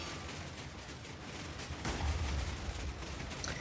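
Minecraft pistons firing in a bedrock-breaking contraption, a dense run of mechanical popping bursts that swells louder halfway through and keeps going to the end.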